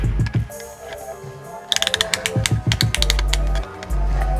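A piston ring compressor is cinched down around a piston during a rebuild of a Ford 5.4L 3V Triton engine, giving quick rapid ratcheting clicks with some metallic clunks and handling knocks nearby.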